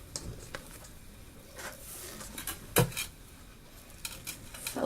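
Cake batter for a Swiss roll is mixed in a bowl, giving irregular clinks and scrapes of a utensil against the bowl. Soft stirring fills the gaps, with a sharper knock near the middle.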